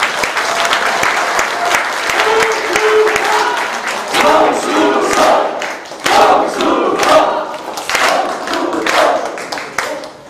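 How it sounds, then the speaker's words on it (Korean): A large crowd at a campaign office opening claps steadily for about ten seconds, loud and continuous, with scattered cheers and voices mixed into the applause. "우리 성수석 의원님께 큰 박수를 부탁드립니다"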